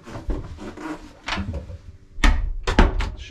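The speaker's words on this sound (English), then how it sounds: "I'm gonna shut that door." Cabin door aboard a steel Doggersbank 1900 explorer motor yacht swung shut, with a couple of close wooden thunks and a latch clack after some shuffling handling noise.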